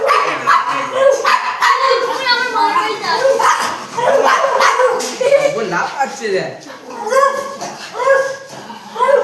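Doberman and Labrador dogs at a mini zoo bark and yip repeatedly in bursts, fairly close, mixed with whimpers while people talk over them.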